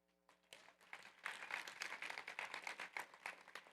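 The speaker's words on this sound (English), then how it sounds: "Racine, you here to clap for Royce?" An audience at a Wisconsin Democratic Party state convention breaks into applause after a quiet start, a sustained crowd of clapping hands heard at moderate level and holding steady to the end, with no speech over it.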